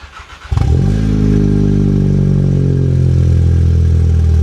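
A 1.8 Volkswagen Polo GTI engine cranks and catches abruptly, then settles into a loud, steady, throaty idle close by.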